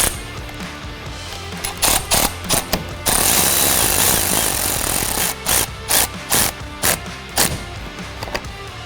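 A size 11 nut is tightened onto a battery terminal of a 2021-or-later Ford F-150 Raptor during an LED fog light kit install, with loud, close bursts of clattering tool noise and a sustained rattling stretch in the middle.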